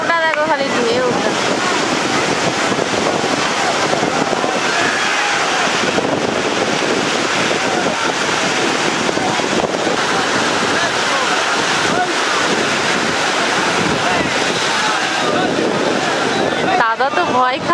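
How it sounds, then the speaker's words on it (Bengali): Sea waves break steadily on the beach at Digha, a loud, continuous surf roar with wind buffeting the microphone as people talk over it. "দেখো কেমন নামছে, দেখো ঢেউটা"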